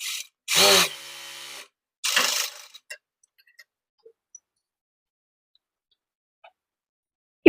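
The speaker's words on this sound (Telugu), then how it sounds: "ఇక్కడ పైనుంచి ఒక టాప్ స్టిచ్ వేయండి" Sewing machine top-stitching along a sleeve joint while making a garment: two short buzzing runs of the motor, then a scatter of faint ticks and clicks as the fabric is handled.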